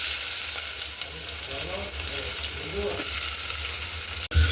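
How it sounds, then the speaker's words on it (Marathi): Onion sautés in hot oil in a pan in a soft, steady sizzle with light stirring scrapes, faint and continuous, ending in a brief clunk; a faint voice murmurs underneath. "कांदा मऊ होईपर्यंत परतून घेऊ"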